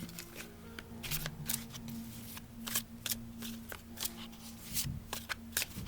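Tarot cards shuffled by hand during a reading, a run of quick, close riffling bursts and soft card slaps repeating in an irregular rhythm, with no talking.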